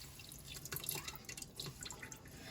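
Water pouring into rice in an Instant Pot for lemon rice, a quiet trickling and dripping stream running steadily throughout with no talking.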